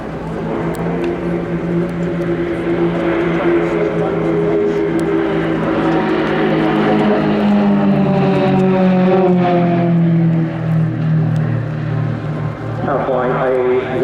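An Extra 330LX aerobatic plane with a 315-horsepower AEIO-580 engine and four-blade propeller flies a display at the RIAT 2025 airshow. A loud, steady droning buzz slowly shifts in pitch, with a commentator talking over it.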